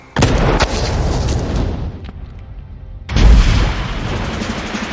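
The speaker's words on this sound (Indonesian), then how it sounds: "dengan terpaksa Sei pun menembak Koko" Gunshots in an action film: a sharp loud blast with a long rumbling tail, a lull, then a second heavy boom near the end, each close and forceful.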